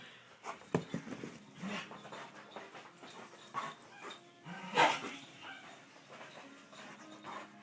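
Tundra, an Alaskan malamute, plays with scattered barks, yips, panting and a short whimper, moderately close and fairly quiet, with sharper barks near the start and middle.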